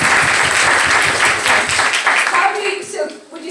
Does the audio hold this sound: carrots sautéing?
no